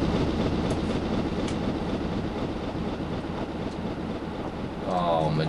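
The Clan Fraser steam locomotive hauling an express passenger train in Train Simulator 2018, a continuous heavy rolling rumble of wheels and carriages with faint clatter, and a short squealing tone near the end.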